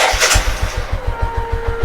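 A motorcycle engine cranks and catches after a mileage (fuel-air) adjustment, then settles into a steady, close, rhythmic idle of regular low thumps, with a faint whine running through it.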